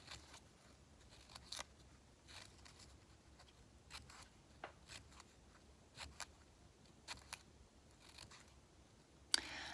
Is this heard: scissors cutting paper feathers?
yes